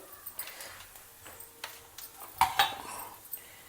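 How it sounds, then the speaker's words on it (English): Chana dal and urad dal are frying together in a pan as a spoon clinks and scrapes against the metal, giving scattered light taps and a brighter clatter near the end, all fairly faint, with no talk. "Fry everything well together. The dal should be well roasted."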